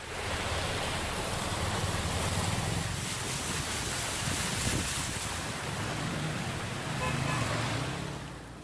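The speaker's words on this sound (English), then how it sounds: "this is the heaviest rain since the 2015 floods in Chennai" Heavy rain pours over city streets in Chennai during flooding, a dense, steady broadband roar of downpour and water that holds loud throughout with no voices.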